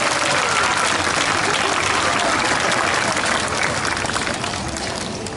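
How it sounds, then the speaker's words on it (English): Loud, sustained applause from a crowd at a sea lion show at Long Island Aquarium, dense clapping throughout that tapers off slightly near the end. "let's give her a nice big round of applause"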